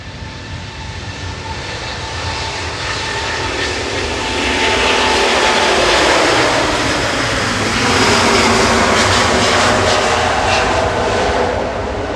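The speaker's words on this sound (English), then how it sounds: "Virgin positioning to Edinburgh with V-Bob now." A Virgin aircraft on a positioning flight to Edinburgh departs Manchester Airport, a jet roar building from moderate to loud and staying strong with a rushing, whining edge, no talk over it.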